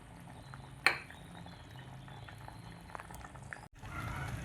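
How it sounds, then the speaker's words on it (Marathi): Ambadi leaf vegetable curry thickened with gram flour simmers in a pot, giving a faint, steady low bubbling with a single sharp utensil clink early on and slight stirring noises near the end. "हे बघा, पूर्ण मस्त भाजीला आता उकळी आली आहे"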